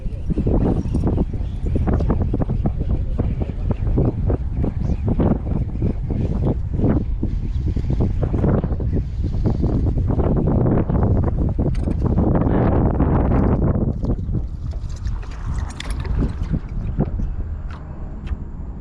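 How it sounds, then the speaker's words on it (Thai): Strong wind blows by the water near a fishing pond, buffeting the microphone in loud, gusty roars that rise and fall throughout, with a voice faintly heard. "โอ้โห ลม"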